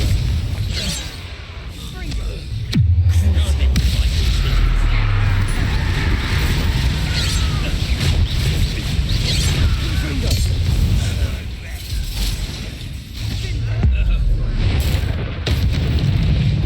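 Confringo blasting spell explosions in the Hogwarts Legacy video game, a deep booming blast near the start followed by sustained rumbling low-end combat noise with repeated heavy thumps, loud and close throughout.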